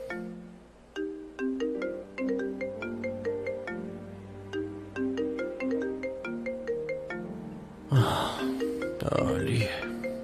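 A melodic electronic phone ringtone plays a repeating tune of short tones for several seconds, then breathy vocal noises and grunts cut in near the end.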